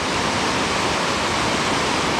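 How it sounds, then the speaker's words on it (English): A large volume of water gushes out of a barricaded, long-abandoned mine adit, making a loud, constant broadband rush with no letup, like a small waterfall heard up close. "There's a large amount of water coming out of it"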